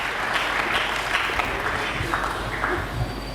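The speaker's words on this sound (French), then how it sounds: "Acclamons très fort pour le roi d'or" A church congregation claps during a sermon, honoring the king: sustained mid-distance applause with a continuous patter of hands, steady in loudness throughout with a faint murmur of voices underneath.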